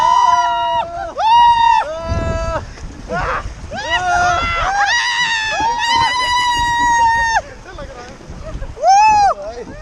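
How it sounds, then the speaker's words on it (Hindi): A group of rafters on a river raft shouts and yells together in long, loud, rising whoops close by, with brief gaps and some splashing water beneath. "चिल्लाओ जरा एक बार सब लोग, चिल्लाओ।"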